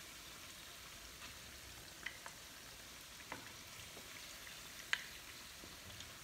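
Crab and shrimp frying in hot oil make a steady, quiet sizzle with a few sharp pops and crackles scattered through it, and no voices.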